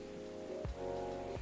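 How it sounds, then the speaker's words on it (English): Rain falls outside in the Coffee Talk video game, a steady wash of raindrops under soft tonal game music, with no talking. "A place to be safe while the rain falls outside."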